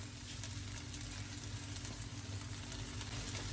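Shrimp noodles with bean sprouts and green onion stir-fry in a wok, a continuous soft sizzle with faint scraping and tossing, quiet and close, with no voices.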